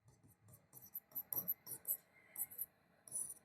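Chalk or marker scratches and taps on a board in a classroom lesson, coming in short irregular strokes, faint and close, with no talking over them.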